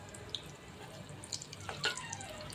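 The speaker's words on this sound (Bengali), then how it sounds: "আর এখন এরপরে বেগুনিটা ভেজে নিচ্ছি। এভাবে একটা একটা করে সবগুলো ভেজে নিচ্ছি।" Thin slices of long eggplant, battered as beguni fritters, fry quietly in hot oil, giving a soft steady sizzle broken by scattered small pops and crackles.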